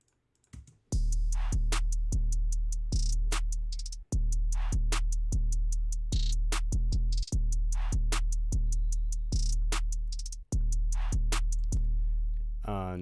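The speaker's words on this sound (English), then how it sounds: "So all together, the drums sound like this." Trap drums with a deep 808 bass play a loud, steady pattern of punchy booming hits and crisp percussion, repeating in a regular rhythm with a couple of short dropouts, and no voices over the top.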